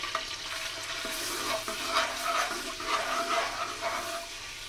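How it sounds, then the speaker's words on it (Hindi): Ginger-garlic paste is stirred in hot oil for chicken feet curry, a crackling sizzle broken by repeated spoon scrapes in an uneven rhythm, close and fairly loud. "इसको अच्छी तरह मिक्स कर लेंगे ऑयल के अंदर।"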